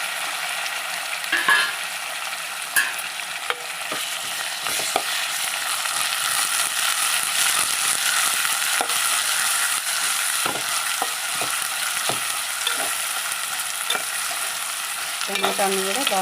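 Tomatoes fry in a pan with a steady sizzling hiss, broken by repeated light clicks and scrapes as they are stirred, with no voices.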